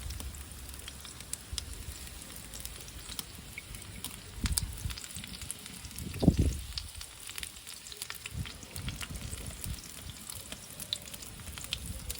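Chopped onions hitting a hot barbecue grill for a burger, giving a steady, soft sizzle with crackles and a brief louder burst midway; no voices.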